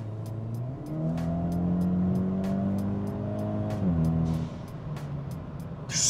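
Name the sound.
loud exhaust of modified Hyundai Elantra N in normal mode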